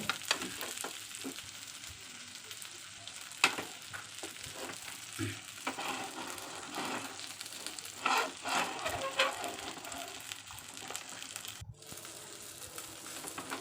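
Fish pieces frying in hot oil in a pan, a steady close sizzle with crackles and occasional scraping and turning sounds.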